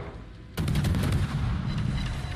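Battleship guns fire in the World of Warships game, a sudden heavy boom followed by rumbling reverberation and scattered distant shots.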